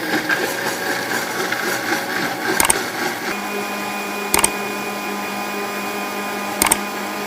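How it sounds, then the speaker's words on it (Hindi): An electric grinder runs on almonds and poppy seeds with a steady, loud motor whine throughout, broken by three brief knocks spaced a couple of seconds apart. "तो अब मैं शुरू करती हूँ ग्राइंड करना।"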